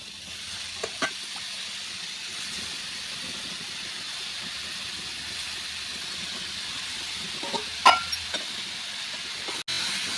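Brinjal (eggplant) frying in a pan on a gas stove for a brinjal bharit recipe, with a steady close hissing sizzle throughout and a few light clinks from stirring.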